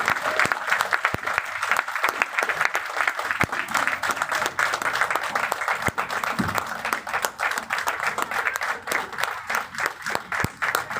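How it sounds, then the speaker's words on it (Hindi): Loud, steady applause from a business seminar audience in Bhopal, dense clapping sustained for about eleven seconds with some crowd murmur mixed in. "जोरदार तालियां होनी चाहिए।"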